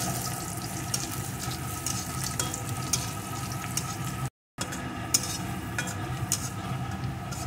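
Onion and chopped green chilli sizzle gently in oil in a pan for pumpkin bharta, a soft steady hiss with occasional stirring clicks and one brief dropout, no talking.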